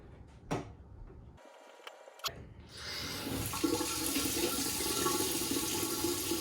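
Water runs steadily from a newly installed bathroom vanity faucet in a basement bathroom after the aerator is put back on, a continuous close hiss that starts after a few brief clunks and knocks.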